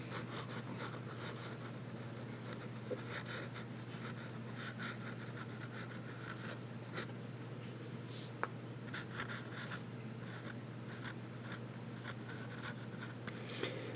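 A fountain pen with a fine nib writes on paper in Blackstone Berry Reef Blue ink, a close, quiet, continuous scratching of short strokes over a steady low hum.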